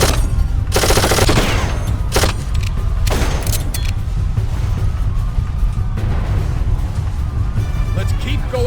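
Automatic weapons fire in the video game Darkest of Days: a loud burst of rapid shots, then a few single reports over a constant rumbling game ambience, with people talking.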